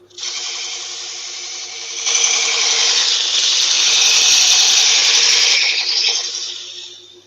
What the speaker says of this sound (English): Just going to give my gouge a quick sharpen.